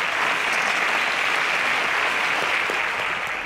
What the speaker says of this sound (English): A round of applause for Blossom.